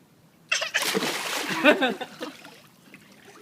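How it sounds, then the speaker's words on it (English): A child jumps into a backyard swimming pool, a single splash followed by sloshing water, close and moderately loud, with an adult voice talking over it. "You jumped in the water."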